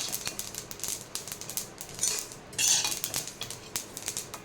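Hot roasted ingredients for laddu tipped into a steel mixer jar, giving sharp clinks and rattles of metal and scraping, with a brief louder clatter midway, close by and without talk.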